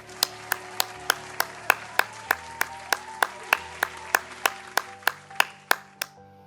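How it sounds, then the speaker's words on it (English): Slow, evenly spaced claps of a single pair of hands ring out about twenty times, sharp and close, for sponsors at a virtual fundraising event, with no talk over them. "Let's have a big virtual round of applause for these generous sponsors."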